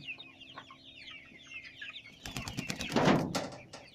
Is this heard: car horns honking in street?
no